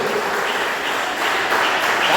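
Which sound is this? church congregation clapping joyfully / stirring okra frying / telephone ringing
church congregation clapping joyfully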